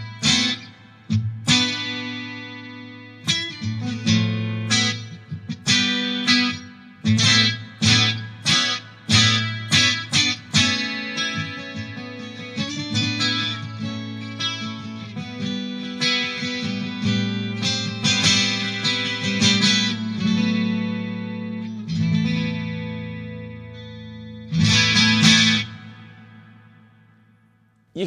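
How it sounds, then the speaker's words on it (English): A Line 6 Helix paired with a Variax guitar models a 12-string acoustic, ringing out bright strummed and picked chords in rhythmic bursts and sustained passages, alone without speech. "but what you're hearing is a 12-string acoustic."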